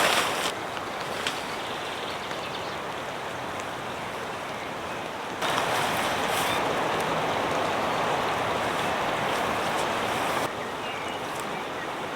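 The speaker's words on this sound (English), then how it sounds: "enjoying the sound of the rain" Heavy rain drums onto a tent and tarp on New Zealand's west coast, a dense, loud, unbroken patter that swells stronger midway through, with no voices.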